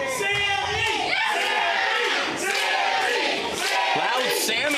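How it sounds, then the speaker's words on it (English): A big wrestling crowd at a 365 Pro Wrestling show in Guelph chants "Sammy" loudly and rhythmically. The chant fills the arena with dense, overlapping voices for several seconds. "Loud Sammy chants here from the big crowd at the Red Chevron."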